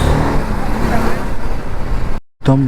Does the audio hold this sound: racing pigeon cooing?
no